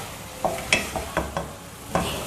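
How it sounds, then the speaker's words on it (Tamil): Grated coconut stirred into sizzling vegetables in a pan for araithu vitta sambar, with a few separate scraping spoon strokes over a soft, steady sizzle, close and fairly quiet. "நம்ம துருவி வச்ச தேங்காய் இது போட்டுடணும். போட்டு இதையும் நல்லா கலந்துடலாங்க."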